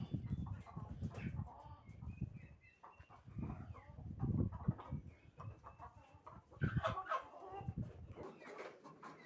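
Roosters and hens on a poultry farm cluck and crow in scattered bursts, some close and some farther off, with short quiet gaps between the calls.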